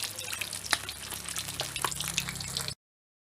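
Snakehead fish frying in oil in a pan over low heat makes a continuous close sizzle, with scattered sharper pops and crackles, before it cuts off abruptly.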